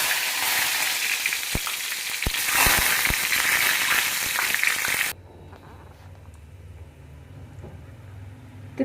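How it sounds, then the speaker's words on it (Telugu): Mustard seeds, asafoetida and curry leaves crackle and sizzle loudly in hot oil for a tempering, with sharp pops over a dense hiss for about five seconds before it cuts to a quiet, low hum. "తిరుగుబాతు రెడీ అయింది"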